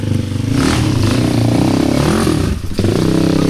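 A motorcycle engine runs loud and close, rumbling and clattering steadily, then briefly drops out and sputters near the end.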